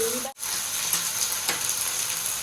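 Ginger-garlic paste and chili paste hit hot oil with frying onions for biryani, giving a steady close sizzle with brief crackles and a short break near the start.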